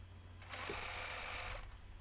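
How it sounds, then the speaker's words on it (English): A sewing machine stitches bias binding onto a picnic blanket in one steady, even motor run of about a second, starting and stopping cleanly against quiet room hum. "put down your needle, pivot your fabric 90 degrees, make sure everything is organized, and then continue sewing"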